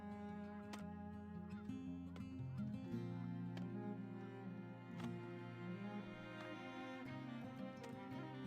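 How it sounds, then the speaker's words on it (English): Turkeys gobble and honk in the colony-building game Farthest Frontier, a soft steady chorus of fowl calls layered over a low droning musical background, with no talk. "there goes the turkeys flying home for Thanksgiving"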